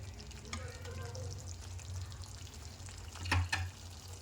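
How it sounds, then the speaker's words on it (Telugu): Masala with turmeric fries in oil for a lotus seed (phool makhana) curry, giving a steady low sizzle with faint stirring scrapes and a louder clatter near the end. "దీంట్లో మనం పసుపు మసాలా మంచిగా ఫ్రై చేసుకోవాలండి"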